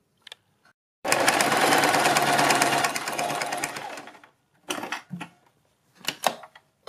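A sewing machine runs a straight seam in one loud, steady whirring burst of about three seconds that slows near its end, followed by a few short stitching spurts and clicks.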